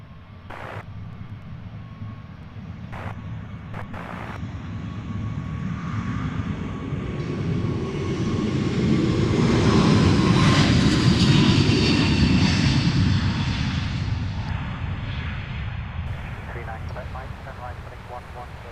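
A Bombardier Global jet taking off at foggy Luton Airport, engine roar building from a distant rumble to a loud peak midway and then fading, with a few clicks near the start.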